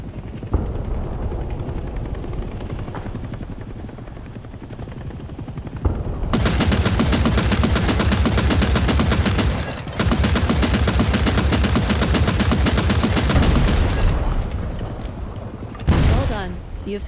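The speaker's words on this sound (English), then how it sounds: "enter the AA gun and shoot down the enemy chopper" Anti-aircraft gun blazing at an enemy helicopter in the Vietnam-era game Hell Let Loose, with loud sustained bursts of automatic fire over a background helicopter drone, brief pauses between long volleys.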